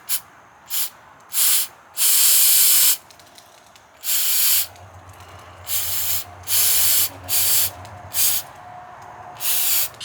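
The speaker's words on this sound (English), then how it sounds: "That's where we're going to be spraying it." Repeated bursts of aerosol cleaner are sprayed onto a Nissan mass airflow sensor, loud hissing blasts of varying length separated by short pauses, with a low hum underneath partway through.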